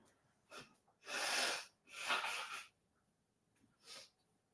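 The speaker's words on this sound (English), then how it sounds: "I need to blow my nose." Someone blows their nose close up: a short snort, then two long forceful honking blows, followed by a final brief snuffle.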